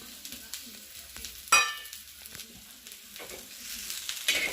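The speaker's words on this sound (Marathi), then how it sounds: "कांदा आणि खोबरे हे दोन्ही व्यवस्थित भाजून घेणार आहोत" Onion and coconut pieces roasting in a pan for a village-style mutton dish, a quiet background sizzle with spatula scrapes and one sharp metallic clink, close and without speech.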